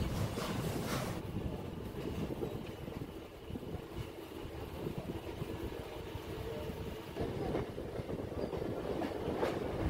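A Sealdah–Sodepur suburban train rumbles steadily along the rails after crossing a bridge, a continuous clattering roar that swells louder toward the end as it gathers speed.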